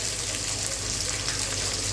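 Ginger and garlic frying in oil in a large pot for chicken biryani, a continuous loud hissing sizzle with no pauses.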